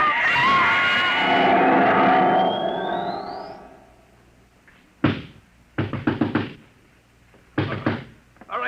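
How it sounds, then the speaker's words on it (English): Radio drama effect of a door being banged on: after a fading scream or wail, several loud heavy knocks pound in short bursts, a single hit then a cluster of rapid blows and another pair. "He'll break down the door in a minute."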